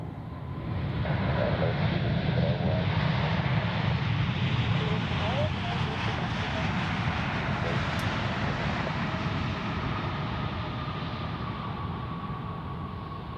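A jet airliner touches down at Zurich Airport, its broad engine roar swelling within a couple of seconds and then holding steady before slowly fading, heard from a distance with a voice talking over it.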